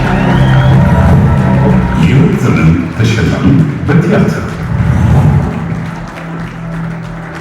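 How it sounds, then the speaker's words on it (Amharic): Dense applause from an audience at an awards ceremony at the Sheraton Addis fills the room while an announcer speaks loudly over it, the clapping swelling and then easing toward the end. "ሞቅ ባለ ጭብጨባ ወደ መድረክ"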